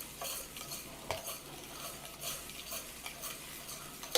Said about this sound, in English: the whole key here now is to get all of that beautiful crustiness off of the bottom